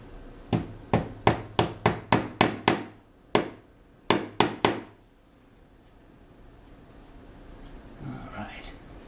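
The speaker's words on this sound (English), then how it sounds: "Now, better have my hammer ready." Sharp metal hammer strikes while replacing a railroad turnout: a rapid run of about nine evenly spaced blows, a pause, then three more, close and loud, followed by quiet with faint movement.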